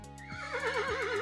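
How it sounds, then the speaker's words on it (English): A synthetic horse neigh sound effect from a text-to-speech tool, a single loud wavering whinny lasting about a second, heard alone without talk. "if you want a horse sound effect in your message"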